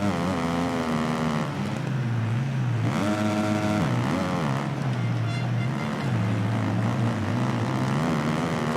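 A motocross bike engine in the video game MXGP 2019 revs continuously and loudly, its pitch rising and falling as the throttle is pumped, with harmonic whine sweeping up around the three and four second marks.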